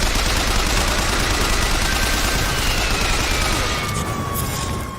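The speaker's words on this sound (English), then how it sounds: "I want to show some shooting" Loud, rapid gunfire fills a video game played through Vorpx in a continuous, dense burst of shots that keeps going and eases off slightly at the end.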